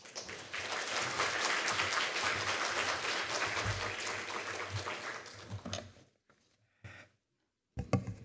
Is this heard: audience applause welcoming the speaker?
yes